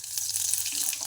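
Cumin seeds hit hot oil in a kadhai for a ridge gourd and moong dal dish, giving a short, continuous bright sizzle heard close up, steady and unbroken.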